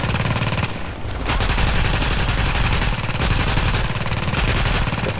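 Turret gunfire in a video game hammers out continuous rapid automatic bursts, loud and close, with brief breaks between volleys and no talking.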